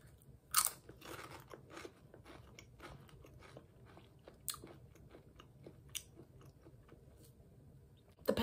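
Walkers Ready Salted potato crisps crunch loudly and crisply in a mouth, with repeated bites and steady chewing close up and no talk.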